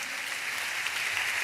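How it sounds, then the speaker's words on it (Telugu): A church congregation claps together in a dense, steady burst of applause with no breaks, heard from a moderate distance and filling the room in a brief stretch. "చప్పట్లు కొడుతూ స్తోత్రాలు చెప్దాం"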